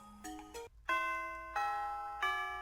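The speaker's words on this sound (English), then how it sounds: "Ah, that's the bell." A chiming school bell rings in a video game, a melodic sequence of sustained bell-like tones stepping between pitches, a short opening phrase followed by three ringing notes that each decay slowly, clear and alone.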